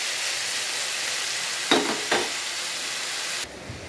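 Ridge gourd and potatoes frying in hot oil give a steady close sizzle, broken by two sharp stirring scrapes before the hiss drops abruptly near the end.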